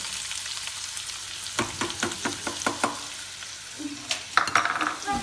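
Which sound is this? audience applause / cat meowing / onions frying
onions frying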